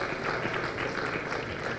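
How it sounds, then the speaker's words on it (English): Audience applause at the closing ceremony of a plenary conference session, honoring sponsors and partners; steady, dense clapping fills the whole stretch at even loudness with no voices over it. "Let us give all our sponsors and partners a well-deserved round of applause."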